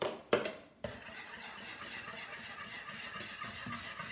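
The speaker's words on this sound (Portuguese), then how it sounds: "Tem que se mexer com muita força." Pudding batter with egg whites being stirred vigorously in a bowl, a continuous rough scraping and churning after a couple of sharp knocks at the start.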